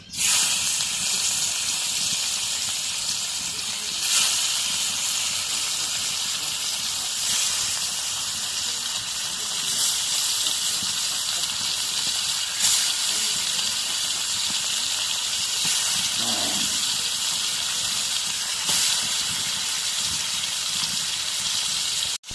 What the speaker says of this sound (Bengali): এখন তেল দিয়ে দিই। তো এই যখন মাছগুলো দিয়ে দিই।